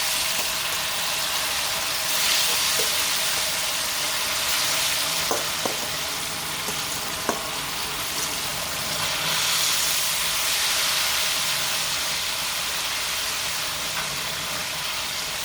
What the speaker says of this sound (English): now oil is ready, so we're going to fry this plantains up